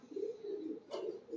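Pigeons coo softly nearby in a pair of low, throaty rolling phrases, quiet and close with a brief rustle between them.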